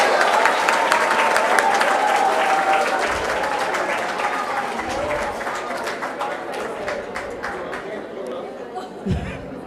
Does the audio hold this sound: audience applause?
yes